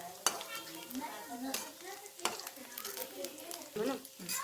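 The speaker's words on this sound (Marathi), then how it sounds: "चला चला आता हे लालसर होईपर्यंत परतून घेऊया" A bottle gourd mixture is stirred and sautéed in a pan, with a spoon scraping and clinking against the metal over a soft sizzle and someone talking throughout.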